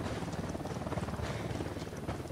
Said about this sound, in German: Das ist der gegnerische Heli